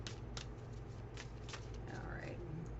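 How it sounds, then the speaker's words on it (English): Tarot cards are shuffled by hand in a steady, near riffling and sliding rustle with a few sharper snaps, over a constant low hum. "give these a quick shuffle"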